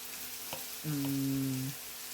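Pasta fries with chilli powder and spices in a pan, a steady, quiet sizzle running throughout, with a short tonal hum rising briefly in the middle.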